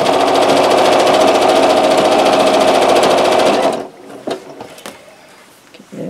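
A sewing machine stitches the binding of a disappearing nine-patch quilt in a loud, fast, steady whir of needle strokes for about four seconds, then stops, leaving faint handling clicks and rustles.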